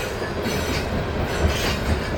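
A loaded coal train rolls past on the rails of the R.J. Corman line with a steady, loud rumble and rhythmic clacking of wheels, close by and continuous throughout.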